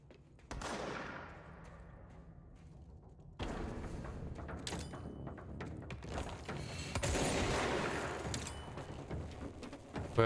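Gunfire in the game Control comes in scattered shots and bursts, some sharp and close, others rattling further off, separated by short lulls of quieter ambience.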